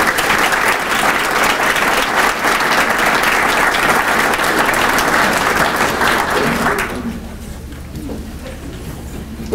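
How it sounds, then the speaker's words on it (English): A crowd at a university scholar-athlete awards ceremony gives loud, sustained applause for honorees, which holds strong for about seven seconds before quickly tapering off into quiet room noise. "Let's give a big round of applause for our"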